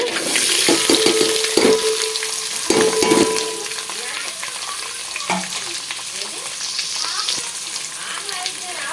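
Mixed vegetables fry in oil with a continuous close sizzle, broken early on by a few clanks and stirring knocks, then settling into a steady hiss.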